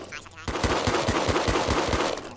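Rapid, evenly spaced automatic gunfire in Fortnite, a loud steady burst of about a dozen shots that starts abruptly and runs for around two seconds.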